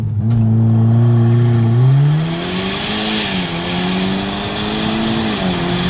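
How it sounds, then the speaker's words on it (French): A tuned Volkswagen Golf 6 R engine revs hard under launch control and holds at a high roar, pitch climbing then settling into a steady, loud drone as it launches. "les amis, on va tester le launch control"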